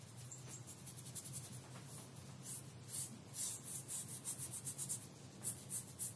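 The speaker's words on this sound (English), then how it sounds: "by using a dryish brush, it means I can almost like rub it on the lino to place the paint." A dryish brush rubs paint onto a lino block for a reduction linocut, giving soft, close bristle scrubbing in short repeated strokes that swell and fade. Quiet and alone, with no talk.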